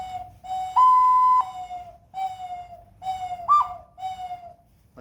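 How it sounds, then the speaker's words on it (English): Handheld dove call whistle of the kind used by hunters, blown in a sequence of cooing tones, one longer steady note then shorter warbling hoots, close and clear with no speech. "Like that dove call there"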